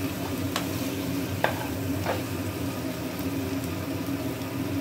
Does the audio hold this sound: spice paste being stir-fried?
yes